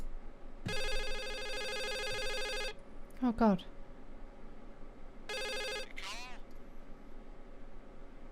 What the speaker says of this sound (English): Can you pick up the phone, please?